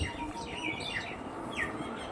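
Pigeons of a flying breed kept for sale, heard as faint scattered chirps and short calls over a steady background hum, no voices.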